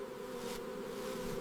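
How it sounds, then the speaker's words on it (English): Honey bees buzz on a hive frame being brushed during harvest at a honey processing site, a steady dense hum holding throughout at close range with no talk. "Bees cling to their work and must be gently brushed away without harming them or damaging the comb."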